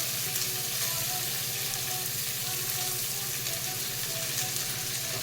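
Curry leaves sizzle in hot oil for Andhra-style tomato dal, a steady close crackling fry that carries evenly throughout with no one talking.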